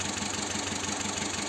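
Car engine idling with a vibration from a misfire, a steady continuous drone with slight rhythmic unevenness, close and alone without talk.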